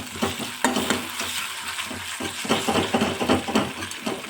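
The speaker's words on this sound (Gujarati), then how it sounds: "હવે મેં 1 ચમચી જેટલી આદુ અને લસણની પેસ્ટ લીધી છે. એને પણ ગોલ્ડન બ્રાઉન સુધી હું કૂક કરી લઈશ." A spoonful of ginger garlic paste fries in a pan for Maggi paratha, with a steady close sizzle broken by repeated stirring scrapes and no talking.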